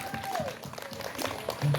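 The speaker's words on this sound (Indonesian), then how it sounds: "Beri aplaus untuk kita semuanya." A group at an outdoor family icebreaking game claps together in a burst of applause, dense and steady throughout, with voices mixed in and a brief whistle-like tone.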